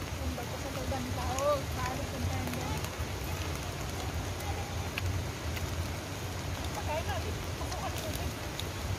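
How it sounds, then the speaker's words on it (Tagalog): Heavy rain pours steadily on an outdoor park in Singapore, a dense continuous hiss at close range, with voices talking faintly underneath at moments. "Kasi ang lakas ng ulan."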